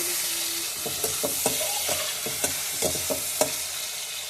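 Onions and tomatoes with salt frying in a pan for a small fish curry, a steady sizzle under a regular series of spoon scrapes and taps, about eight strokes, close up with no talk.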